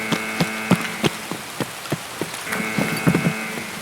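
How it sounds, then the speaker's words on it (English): Rain patters steadily in a video game, with irregular knocking and tapping impacts over a continuous hiss and a faint tonal hum. "I fucking hate it when it rains"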